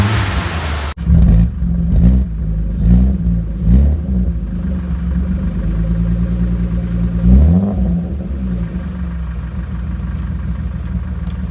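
A BMW E34 525i engine starting abruptly, then idling close by with a few quick throttle blips and a later rev, settling into a steady, smooth inline-six idle.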